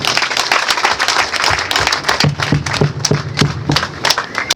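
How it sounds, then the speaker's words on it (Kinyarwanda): A crowd at an outdoor Liberation Day celebration in Musanze claps in a loose, dense patter, which settles into a rhythmic unison clap with low thumps in the second half. "mufashe mwihe amashyi n'impundu nyinshi"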